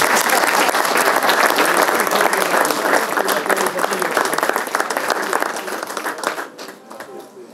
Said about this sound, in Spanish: así que os pido un aplauso para todos vosotros.